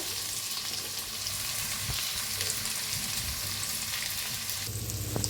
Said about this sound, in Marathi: आता मिक्स करून भाजून घेऊया आपण छान रोज लालसर रोज तर कांदा भाजून घेऊया